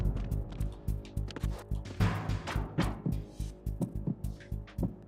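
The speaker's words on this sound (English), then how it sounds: "I can hear your heartbeat." Heartbeat sound effect from the video game Metal Gear Solid 2: a quick, regular series of soft, deep thumps pulsing steadily throughout, with faint background ambience and no speech.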